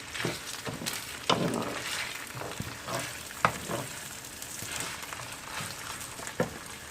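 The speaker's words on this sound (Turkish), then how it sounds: "Güzelce kavuracağım şimdi." Rice sizzles and fries in a pan while being stirred and toasted with salt for pilaf, a steady close crackle broken by scraping strokes and occasional sharper clicks from the utensil.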